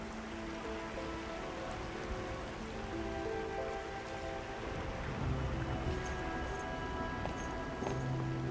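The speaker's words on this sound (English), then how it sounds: "It's raining harder. I can't hear anything except for the rain." Heavy rain falls steadily in the video game Arknights Endfield, a dense continuous patter on surfaces that fills the whole scene at an even level, with no voices.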